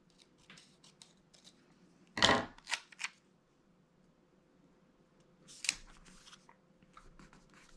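Scissors trim the edge of paper for a planner in a few sharp snips, one louder cut followed by quick smaller snips, then another cut after a pause, close and quiet otherwise.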